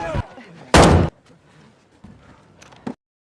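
Gunfire in an action film shootout where a man brings down a gang of robbers, heard as a couple of sharp, loud blasts separated by quieter stretches, with a brief final crack near the end.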